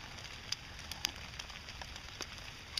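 Rain falling outdoors on a lazy afternoon, a faint steady hiss of drops with scattered sharper ticks and patters on nearby surfaces, no voices.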